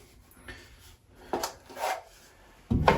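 A drywall knife spreads and smooths joint compound across a patch on a mobile home wall, giving soft scraping rubs in short strokes with pauses between them, then a louder closer scrape at the end.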